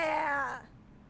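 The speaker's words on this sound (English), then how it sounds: "It's a displacer beast kitten." A displacer beast kitten in a tabletop fantasy game gives a short, high, wavering mewl, close and fairly faint, lasting about half a second before fading to quiet.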